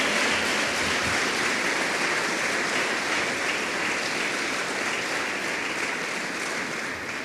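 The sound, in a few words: congregation clapping for the Lord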